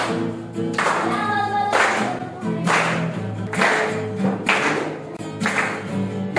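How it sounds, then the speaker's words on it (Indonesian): A class of children claps hands along in rhythm during a song activity, regular bursts of clapping mixed with singing voices filling the room. "Tepuk tangannya."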